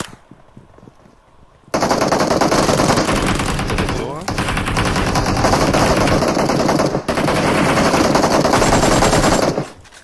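Loud, sustained automatic gunfire in PUBG Mobile, rapid bursts dominating throughout, with a brief pause midway.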